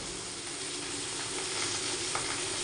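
Beans frying in a pan give a continuous, even sizzle with a soft steamy hiss, close up and steady, with no voices.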